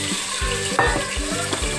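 Onions frying in hot oil in a pan for urad dal, a continuous bright sizzle with rhythmic scraping strokes of a spoon stirring, loud and close.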